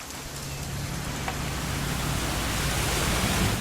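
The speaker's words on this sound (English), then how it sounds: "It's gonna rain the whole weekend, isn't it?" Rain falling in the video game What Remains of Edith Finch, a steady dense hiss of rainfall filling the whole moment, constant and fairly loud with no talk.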